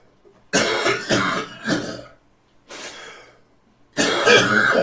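Several harsh coughs close to the microphone, a quick burst of three, then a single one, then another after a pause.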